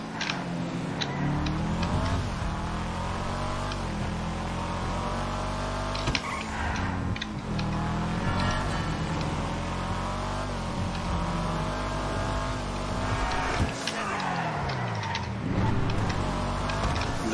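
A car driven in Grand Theft Auto Online, a modified Los Santos Tuners street car, drones steadily with engine tones rising and falling through shifts and revs, loud and continuous for the whole stretch with no talk.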